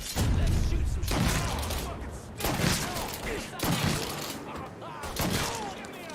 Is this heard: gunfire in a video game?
yes